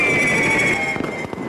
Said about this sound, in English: In Beijing, the fireworks signal the end of New Year's Eve.